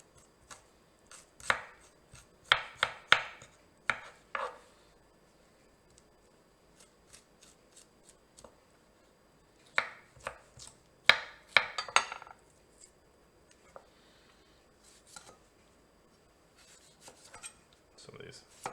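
Fresh ginger being scraped with the side of a spoon, short bursts of quick rasping strokes separated by quiet pauses, close and crisp, with occasional low speech-like murmurs between them.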